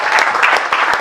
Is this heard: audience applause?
yes